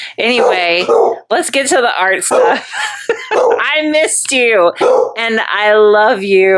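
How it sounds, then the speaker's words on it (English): A pet dog barks and yips in short bursts inside a home, the sounds mixed in with steady close female speech that continues over them throughout. "I'm sorry my dog is barking"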